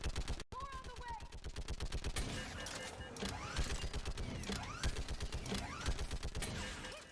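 Sustained rapid automatic gunfire in the video game Mass Effect 3, dense rhythmic bursts loud and close throughout, with whizzing and mechanical effects layered over it.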